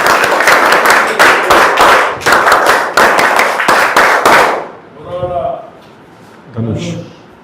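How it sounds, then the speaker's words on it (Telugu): An audience claps loudly for a ranked winner at a prize announcement, with dense applause in several waves for about four seconds, then a voice speaks. "గట్టి చప్పట్లు కొట్టండి"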